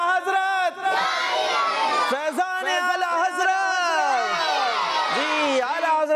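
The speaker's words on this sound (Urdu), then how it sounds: "دیکھتے ہیں سب سے اچھے انداز سے نعرے کون لگاتا ہے" A group of children loudly chanting religious slogans together on a kids' Islamic show, rising and falling shouted calls in rapid succession, close and energetic.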